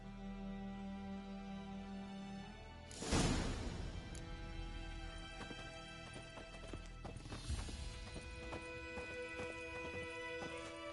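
Hooves of the horse Roach in The Witcher 3 galloping, rhythmic clip-clop picking up around a quick whoosh, steady and fairly close with game music underneath.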